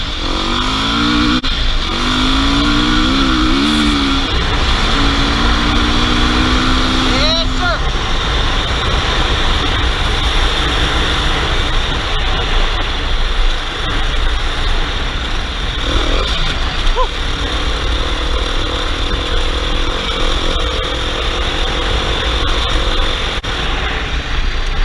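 A dirt bike engine runs steadily and loud near the rider, pitch rising and dropping with throttle changes over a constant wind-buffeted roar.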